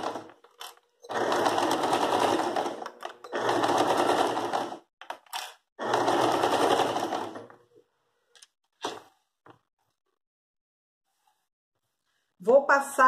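A sewing machine stitches the border of a cotton dish towel with white thread in three bursts of about two seconds each, separated by short pauses, with faint clicks afterward and brief rustling at the end.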